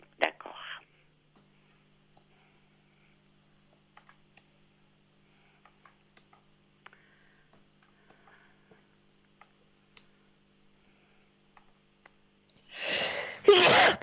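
A single sneeze bursts out loudly near the end of a quiet indoor stretch, preceded by a brief breathy sound and faint ticks and clicks.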